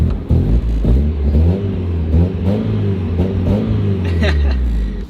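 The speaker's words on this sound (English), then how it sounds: "The motor is fully warmed up." A fully warmed-up Mazda Miata engine revs in rising and falling surges over a steady idle rumble, loud and close, with a voice talking over it.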